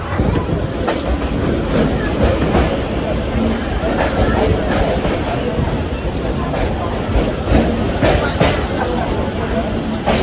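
Train at Chennai Egmore station, a loud continuous rumble with rhythmic clicking of wheels over rail joints and a busy babble of passengers' voices mixed into the noise.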